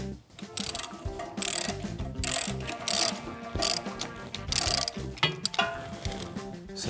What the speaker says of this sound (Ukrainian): Беремо голівку на 21, можна взяти подовжувач і тріскачечку.